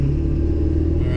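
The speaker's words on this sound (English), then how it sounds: "I'm going to get up to a high RPM." A Ford 7.3 diesel truck engine holds a loud, steady low rumble as it revs toward high RPM, close and continuous throughout.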